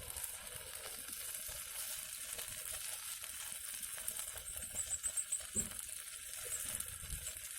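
Toast sizzles while cooking outdoors, a continuous faint crackling hiss with occasional soft pops, close by, with no talking.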